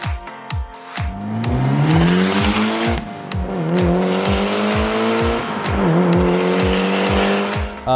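A 400 hp turbocharged Mitsubishi Lancer Evolution V roars past repeatedly, engine revving high with rhythmic gear shifts and squealing tires, loud and close throughout.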